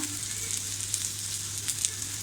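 Oil sizzling steadily over medium heat with garlic cloves in the pan, a soft continuous frying hiss with a few brief crackles and a low steady hum underneath, no voices.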